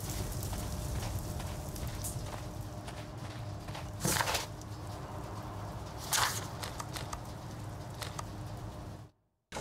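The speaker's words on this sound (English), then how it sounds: "Horse of Pedro Alvarado." Horse hooves clip-clop at a walking pace in a Sherlock Holmes video game, a soft, steady patter with two louder thuds partway through, then the sound cuts out; no voices.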